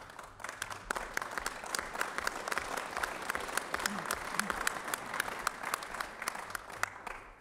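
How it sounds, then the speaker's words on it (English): A crowd applauding steadily for several seconds, dense overlapping claps at an even level that taper slightly near the end. "And let the record show that his applause was louder."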